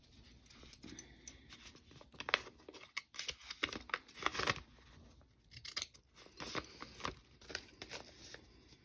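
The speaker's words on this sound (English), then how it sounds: "I'm just gonna make life easy and just cut the sharp corner like so." Scissors snip through paper in a series of short, crisp cuts, close up, with small rustles between them.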